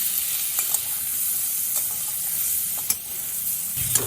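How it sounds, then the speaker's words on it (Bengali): Pointed gourd fries in a pan with a little turmeric, producing a steady soft sizzle and hiss broken by a few light scrapes and taps of a utensil. No one speaks. "এবার আমি পটল ভাজার মধ্যে অল্প করে একটু গুঁড়ো হলুদ দিয়ে দিলাম।"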